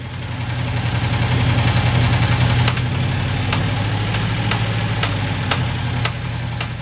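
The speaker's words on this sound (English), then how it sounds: "when I plug the injector into the cylinder, it makes a ton of noise" Hemi V8 engine idling with a rough, uneven note from a problem cylinder once its injector is plugged in, steady low rumble with periodic sharp ticks or knocks, close and loud with no talk.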